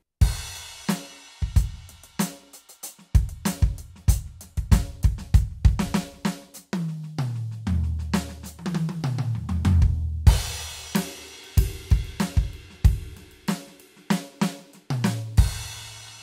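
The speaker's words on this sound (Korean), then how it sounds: "1번 스튜디오 잼 소리 들려드릴게요." Roland TD-17 electronic drum module playing kit 1, Studio Jam, a steady groove of crisp snare and kick hits with cymbals, plus a busier tom fill midway, loud and close with no voices.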